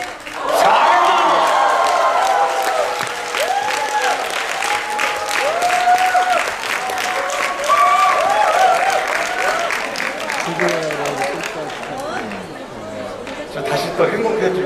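Applause fills a hotel ballroom at the Grand Hyatt Seoul during a Mannatech MVP event, sustained crowd clapping mixed with chatter and some cheering, while a presenter speaks over it through most of the stretch.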